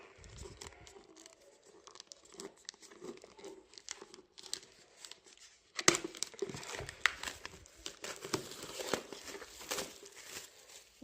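Pokémon Sun & Moon Elite Trainer Box packaging being torn open and handled, with close crinkling and crackling of plastic wrap and cardboard, sparse at first and then busier and denser after a sharp tear midway, without talk.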